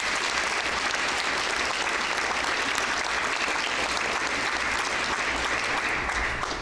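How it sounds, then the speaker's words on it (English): Guests at a Lawrence County Schools heroes banquet applaud Rotary members, a thick, steady wash of clapping heard from a little distance that continues evenly throughout. "Let's give them a round of applause,"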